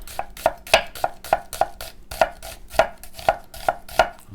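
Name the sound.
chopping mushrooms and onions into strips on cutting board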